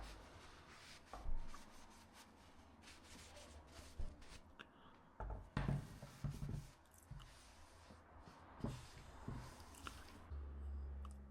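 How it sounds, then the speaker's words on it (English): A cloth wipes excess Danish oil off a small scrapwood Christmas box, producing soft, faint rubbing and squishing strokes, close up, with occasional light knocks of the wood. "So any excess, I leave it about 20 minutes, and I just go and wipe all excess off."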